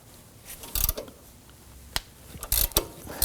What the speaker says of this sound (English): We can use the ratchet on the bottom.